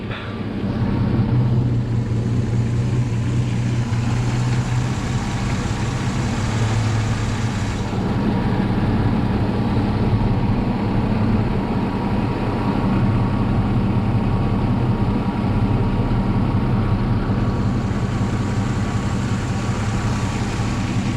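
A Jeep Cherokee with Renix ignition runs steadily during two-step tuning, a loud continuous engine drone with low rumble holding at a constant level throughout, with no speech.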